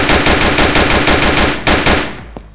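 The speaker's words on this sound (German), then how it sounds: "Dann schießen wir mal ein bisschen drauf." Automatic gunfire is aimed at a car in a video game, a loud, close, rapid stream of shots that keeps a steady rhythm and then breaks off into a few last bursts before fading.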